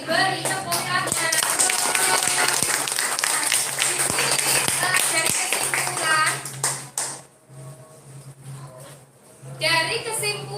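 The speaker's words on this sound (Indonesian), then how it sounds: "Beri tepuk tangan" Lively applause from a classroom group, steady clapping that fades briefly then picks up again, with a constant hum underneath.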